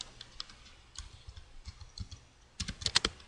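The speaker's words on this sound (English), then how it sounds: "Having just as much trouble typing this morning as always." Keys tapped on a computer keyboard in short uneven bursts, close and fairly quiet, with a quicker flurry of clicks near the end while someone enters code for a C++ program.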